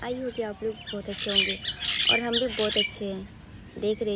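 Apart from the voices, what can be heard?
bird chirping outdoors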